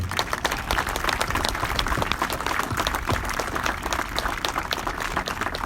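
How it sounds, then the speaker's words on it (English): Crowd applause at an outdoor Memorial Day ceremony in Anchorage, Alaska: steady, dense clapping from a large gathering, sustained at even loudness throughout with no speech over it. "How about a round of applause for this great turnout here?"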